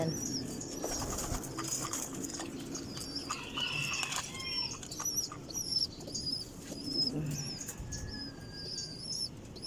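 Pigeons are released and flap their wings, bursts of fluttering wingbeats mixed with chirps and soft cooing, fairly close in an outdoor setting with steady background noise.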